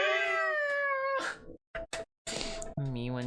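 A cat meowing close and loud, a long drawn-out meow followed by a few short chirps and a final wavering meow.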